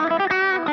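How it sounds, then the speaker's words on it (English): Electric guitar through a Mad Professor–style clone overdrive pedal and an amp's overdrive channel: a brief, thick, sustained distorted chord with slight pick attacks, loud and without talk. "it is a pedal that emulates the kind of overdrive you get from one"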